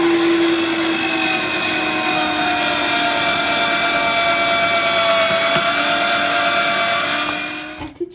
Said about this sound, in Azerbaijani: Əti yuyub maşından keçirdirik.